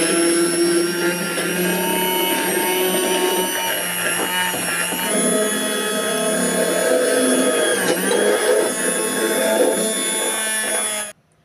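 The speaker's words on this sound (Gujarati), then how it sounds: "હવે આપણે એને બ્લેન્ડરની મદદથી ક્રશ કરી લઈએ." Electric blender whirring steadily to crush boiled drumstick (moringa) pods, a loud continuous motor drone with slight pitch shifts, cutting off at the end.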